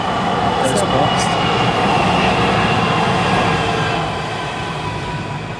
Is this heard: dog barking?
no